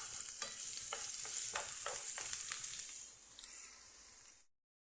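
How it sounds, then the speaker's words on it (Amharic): Onions fry in a pan for an Ethiopian macaroni dish, giving a steady bright sizzle with scattered stirring scrapes and clicks before the sound cuts off abruptly near the end. "ከዛ ሽንኩርታችንን በደንብ እንጠብሳለን።"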